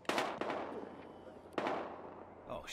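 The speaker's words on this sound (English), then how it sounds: "We've got gunshots." Gunfire in the video game Battlefield Hardline: two sharp bursts of shots ring out at a distance, each decaying into echo, with a faint crackle at the end.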